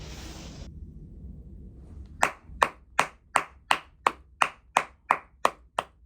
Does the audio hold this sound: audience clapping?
yes